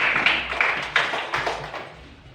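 A few people clapping their hands in a classroom, several distinct claps at a steady pace, close and moderately loud, tapering off toward the end with no voices.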